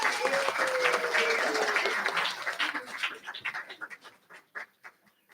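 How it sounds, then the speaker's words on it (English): Church audience at a family testimonies livestream clapping for the people who have been playing, a full burst of applause that thins into scattered, separate claps and fades out. "let's have some applause for everybody who's been playing so far."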